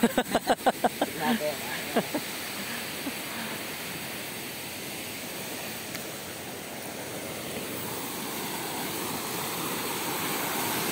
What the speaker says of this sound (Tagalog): Ayun, ilog, oh.